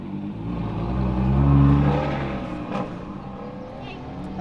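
A Nissan GT-R engine on a race track, rising to a throaty swell near the middle and then easing off, with voices over the motor and a brief sharp knock late on.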